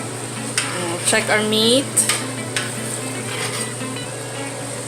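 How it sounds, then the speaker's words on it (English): Beef and chayote simmering in a pot on the stove, a steady low bubbling hiss with a few utensil clinks and stirring scrapes while a voice speaks briefly. "Now it's already simmering."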